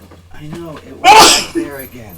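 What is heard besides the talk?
sneeze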